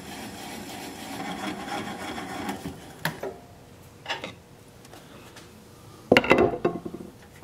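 A gouge cuts through the bottom of a wood piece spinning on a lathe: a steady scraping whir for a few seconds, then scattered knocks and a final burst of clatter as it parts. No one speaks.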